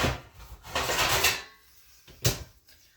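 A cookie sheet holding chicken Kiev is pushed into a home oven: a metallic scraping slide, then the sharp clunk of the oven door closing, both close by with no talking.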